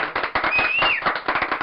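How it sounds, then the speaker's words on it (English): A burst of canned applause sound effect, dense rapid clapping at close, even loudness with a faint whistle-like tone riding through, lasting under two seconds with no talk. "There's the applause."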